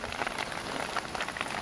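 Hailstones patter and tick rapidly on the roof of a car, a dense, irregular drumming heard from close by with no voices over it.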